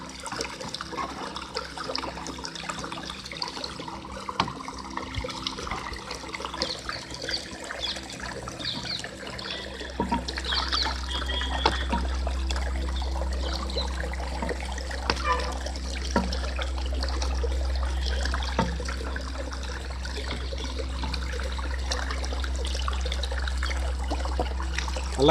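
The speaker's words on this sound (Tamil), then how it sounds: "இதை நல்லா கலக்கணும்." Liquid waste decomposer solution is stirred in water, a steady watery sloshing and trickling that grows fuller and louder midway, continuous and close.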